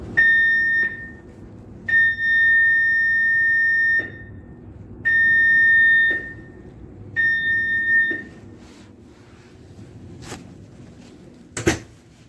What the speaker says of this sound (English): The alarms you will hear sounded throughout the ship are for drill purposes only.